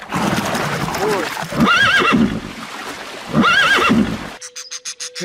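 A horse whinnies twice in a row, each call loud and close with a rising, wavering pitch, followed by a short run of clip-clop hoofbeats; the animal sounds alone with no talking over it.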